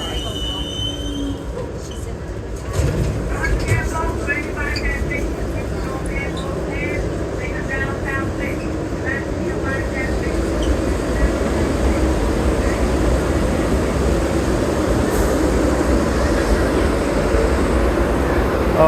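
New York City subway train at the 33rd Street IRT station rumbles loudly, with wheels screeching and a steady mechanical roar, while someone talks over it.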